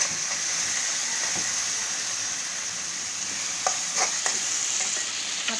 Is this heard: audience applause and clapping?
no